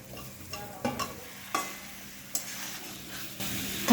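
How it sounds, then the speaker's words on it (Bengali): Fried shol fish is gently stirred in a spice gravy, with a low sizzle broken by several distinct scrapes and clinks of the spoon against the pan, close and without talk. "হালকা হাতে একটুখানি নাড়াচাড়া করে দিলাম।"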